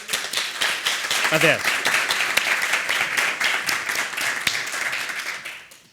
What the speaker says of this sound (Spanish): Ya, pues un fuerte aplauso.